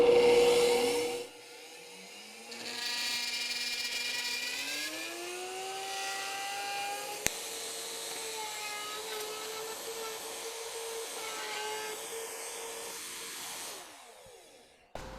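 Wood router spinning up and shaping a wooden bottle opener along a locked acrylic template, a loud whine rising in pitch after a brief pause, then holding steady with slight wavering as it cuts before winding down.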